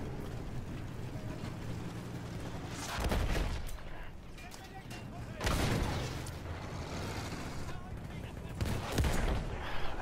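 Gunfire from the World War I shooter Battlefield 1, a few loud bursts of shots and booming blasts over a steady din of battle, with a player's voice over it.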